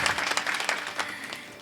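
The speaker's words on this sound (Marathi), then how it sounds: "वाजवा एकदा जोरदार टाळ्या" Brief, dense clapping from an audience at a Marathi kirtan, a short burst of applause at moderate loudness with no speech over it.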